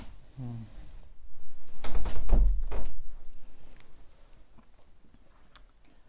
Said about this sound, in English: Matthew, can you close the door, please? Just to keep away the noise and distractions.